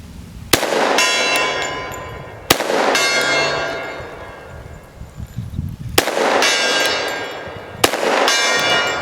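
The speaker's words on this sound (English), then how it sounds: "now let's try the gong" A large gong is struck four times at spaced intervals, each hit a sharp metallic crash with a long shimmering ring that decays until the next blow, loud and close with no talking.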